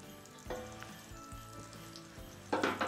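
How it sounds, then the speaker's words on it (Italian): Butter sizzles and crackles in a hot pan, a steady fizzing hiss with a few louder spits and pops, close by and without talk. "Il burro sfrigola"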